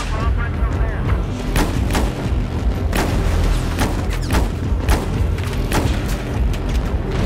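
Gunfire and explosions from the Battlefield shooter game, with dense repeated loud shots and booms cracking at an irregular rhythm throughout, some near and sharp, others duller, over constant battle rumble.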